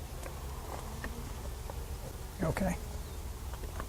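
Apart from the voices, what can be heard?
honey bees at comb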